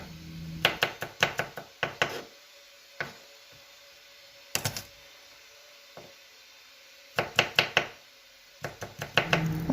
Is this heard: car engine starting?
no